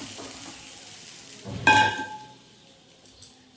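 Water poured into a pan of Bengali pabda fish curry gives a sudden loud sizzling hiss that fades over a second, with a couple of light clinks of a utensil afterward in an otherwise quiet kitchen.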